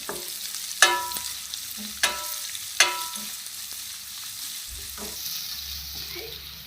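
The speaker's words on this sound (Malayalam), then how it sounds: "സവാള ഒന്ന് സോഫ്റ്റ് ആവുന്ന വരെ നമുക്കൊന്ന് വഴറ്റി കൊടുക്കാം" Sliced onion sautés in a pan for Kerala-style vegetable biryani, a gentle ongoing sizzle broken by three sharp spatula knocks against the pan and softer stirring scrapes.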